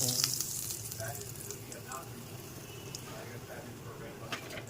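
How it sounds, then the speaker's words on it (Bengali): Stuffed naan filled with green peas fries in refined oil in a wok, a steady close sizzle with faint crackles, while someone talks over it. "কড়াইতে রিফাইন অয়েল দিয়ে দিয়েছি, এইবারে নানটা ভেজে নেবো।"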